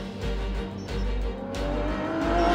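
An Aston Martin Vulcan race car roars on a track, its loud, continuous engine note climbing steadily in pitch as it accelerates, with no voices over it.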